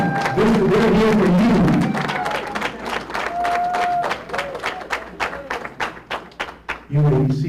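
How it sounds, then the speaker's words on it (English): A graduation ceremony crowd in Columbus applauds the guests, a dense wave of clapping that thins into scattered individual claps before a voice returns over the hall. "Please give your guests a round of applause"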